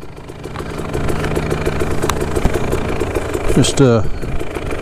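A new KTM 300 TPI motorcycle engine idles and runs steadily up close before a break-in ride, with a voice speaking briefly near the end.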